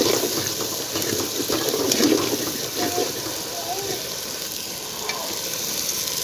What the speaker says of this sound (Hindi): और इस मसाले को 3 से 4 मिनट अच्छी तरह भूनेंगे।